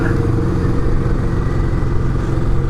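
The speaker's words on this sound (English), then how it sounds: "This guy, what's he on? A Kawasaki 400." A steady, loud engine rumble from a motorcycle ride, continuous and close, filling the whole stretch with low droning noise; a Kawasaki 400 rides past somewhere within it but does not stand out.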